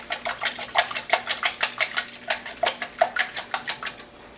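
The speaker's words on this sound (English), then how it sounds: "I like to whisk as I pour." Eggs whisked in a bowl while being poured into a pan on medium heat, a fast, even run of sharp metallic clicks and taps, close and fairly loud, with no talking.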